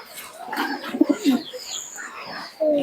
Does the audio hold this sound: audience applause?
no